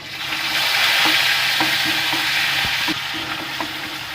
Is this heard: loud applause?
no